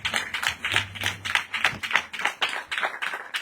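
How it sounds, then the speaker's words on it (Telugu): An audience claps hands in a steady, even rhythm at a church revival gathering, a moderately loud crowd with no voices over it. "గట్టిగా చప్పట్లు కొడదాం. మీరు చప్పట్లు కూడా చాలా కొడుతున్నారు."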